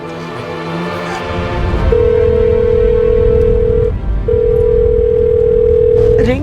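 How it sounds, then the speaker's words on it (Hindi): A telephone ringback tone plays as a call goes unanswered: two long steady tones, each about two seconds, separated by a short gap, loud over a murmur of background voices and room noise. "रिंग जा रही है"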